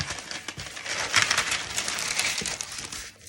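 Close, loud rustling and crinkling of parchment paper being folded and handled, a busy crackly texture lasting a few seconds.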